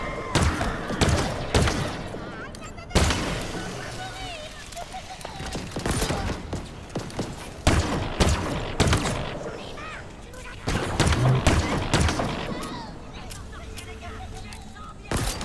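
Weapon fire in the Halo Infinite campaign, with bursts of rapid shots and heavy thumping impacts coming in clusters over roughly fifteen seconds, loud and close, while a player talks over parts of it.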